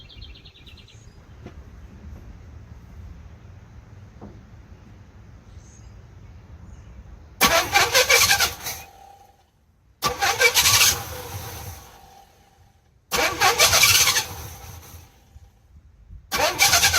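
A Pontiac Trans Am engine, sitting unrun for over 20 years, cranks and catches in four loud bursts of rough running, each cut off by a quiet gap, after a faint idle hum.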